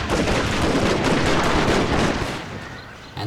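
Massed musket gunfire in a Shogun 2: Total War battle, a loud continuous crackle of volleys that thins out slightly toward the end.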